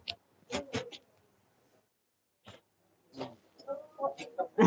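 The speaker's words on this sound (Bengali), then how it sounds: "দেশি মুরগি দেশি মুরগি" Local country chickens cluck at a market, bursts of sharp, nearby clucks and squawks with a long quiet gap between them.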